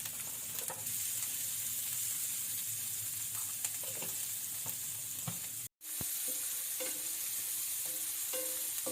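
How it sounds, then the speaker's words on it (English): Chopped onion sizzles steadily in warm olive oil over a small flame, a soft, even crackle with occasional stirring taps and one short dropout. "frying the onion on a small fire"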